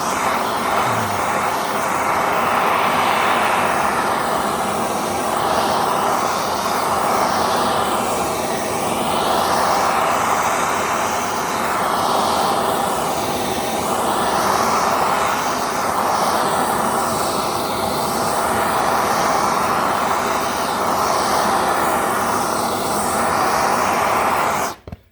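A torch roars steadily and loudly, heating the back side of a vinyl plank being bent into a stair nose. The broad, continuous rushing hiss holds the whole time with no talk, then cuts off abruptly at the very end.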